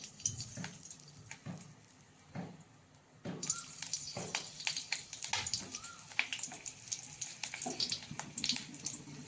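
Stuffed long capsicum peppers are lowered one at a time into hot oil, setting off bursts of crackling, hissing sizzle that grows denser and steadier after a few seconds, close and fairly loud, with no talking.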